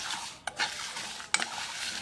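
Mustard seeds, dry red chilies and two bay leaves fry in oil for a mango pickle, a steady faint sizzle broken by two sharp scraping clinks of a spoon against the pan; no voices.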